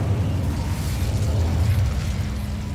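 A fire spell cast in the wizarding video game Hogwarts Legacy, a steady roaring whoosh of flame bursting close and loud, filling the whole stretch without pause.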